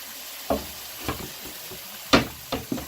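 Spoon stirring liquid into a pot of beans, several distinct scraping knocks against the pot at uneven intervals over a faint sizzle, close and alone.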